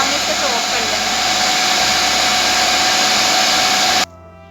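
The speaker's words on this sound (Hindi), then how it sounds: "अब हम इसको ग्राइंड करेंगे" An electric grinder grinding paneer for rasgulla, a loud steady high-pitched motor whine running for about four seconds before it stops abruptly.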